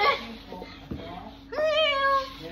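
A person's voice imitates a cat, drawing out a few meow sounds with rising and falling pitch, close and fairly clear.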